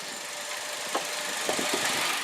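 A 2004 Saturn Ion's engine idles steadily with a low, even hum and a few faint clicks, no talking, at moderate distance.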